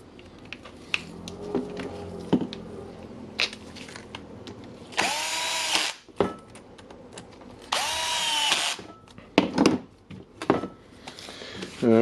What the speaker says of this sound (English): I think this Milwaukee drill will not last for long in my shop.